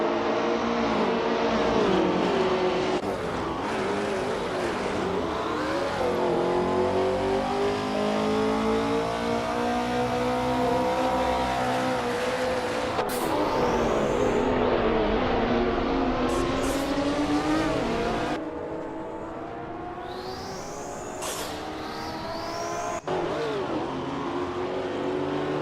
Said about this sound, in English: The Group 5 car class is generally known for its high power and speed